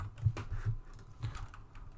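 Keystrokes on a computer keyboard in the Vim editor, a few soft, irregularly spaced taps close by, with brief pauses between them and no voices.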